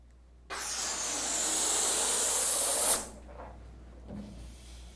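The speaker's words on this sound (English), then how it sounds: "Each time you inflate a balloon" A latex balloon fills from an electric air inflator, a loud, steady rushing hiss of air lasting about two and a half seconds that cuts off sharply, followed by faint handling noises.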